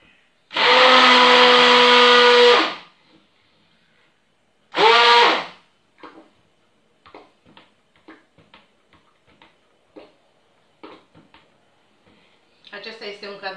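Two long bursts of a blender-type electric mixer stirring a cold-process lemon soap mixture, loud and steady, followed by scattered light taps and clicks; no talking over the motor.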